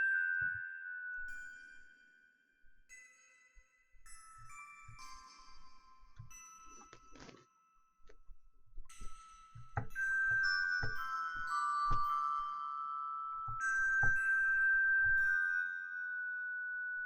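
Asian bell sounds in a music composing game: a sparse melody of clear chiming bell notes and soft tinkles, with some low plucked tones and sustained ringing pitches, with no speech.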